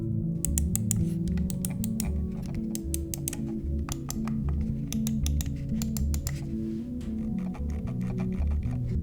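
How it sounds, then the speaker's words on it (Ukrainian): Quick, crisp clicks from a Keychron M3 computer mouse tap out in irregular bursts over a constant low hum, close up and alone. "Послухайте, як вона клацає."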